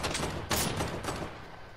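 Rapid bursts of video game gunfire crackle loudly in quick succession, with a sharper blast near the middle and shots tapering off toward the end.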